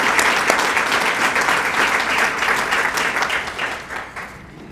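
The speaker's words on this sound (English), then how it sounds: "Let's also give them a big round of applause." An audience at a chamber of commerce small business awards luncheon applauds, a dense steady round of clapping that holds loud and then gradually fades.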